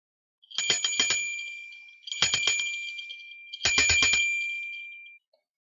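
A small ritual bell rung three times in separate bursts, each a bright, quick jangle of several strikes followed by a clear, sustained ring that fades, close and loud with silence between.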